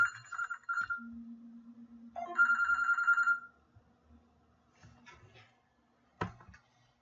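A telephone rings in two bursts of bright, trilling electronic bells separated by a pause, followed by soft clicks and a sharp knock near the end, with no talking.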